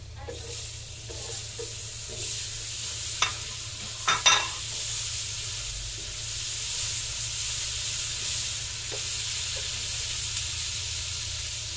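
Steady sizzling of garlic and onion frying in a pan, with a few sharp stirring clinks and scrapes near the start; no talking.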